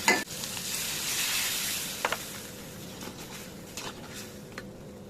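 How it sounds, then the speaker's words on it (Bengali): Hilsa fish fries gently in a pan over low heat, giving a steady, soft sizzle throughout, with a few brief clinks and stirring scrapes near the start and middle. "চুলো জ্বালিয়ে হালকা আঁচে মাছগুলোকে একটু ভেজে নিচ্ছি"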